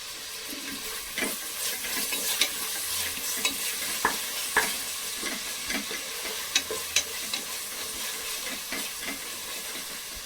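Ginger garlic paste frying with coriander and mint in a pan, a continuous bright sizzle with scattered sharp taps and scrapes of stirring, close and moderately loud.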